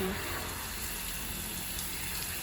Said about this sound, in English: She's saying I gotta water these until they're really heavy, whether it's in moss or these composting peanut shells.